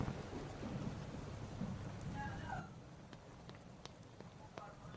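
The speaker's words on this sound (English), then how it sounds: "rain on top of the dimmed down sky as well" Steady rain hisses under a dimmed sky with a low thunder rumble, then eases to lighter drops partway through, with voices talking over it.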